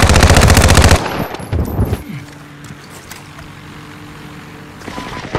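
Rapid automatic gunfire in a shooter game, a loud dense burst for about a second, then scattered shots and mechanical clatter fading into a quieter hum with a brief late flurry.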